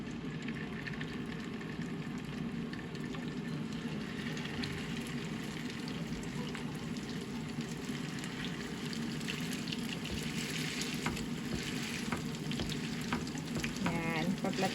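A homemade burger patty fries in a pan with onion, a steady close sizzle and crackle with occasional stirring clatter, continuing without talking.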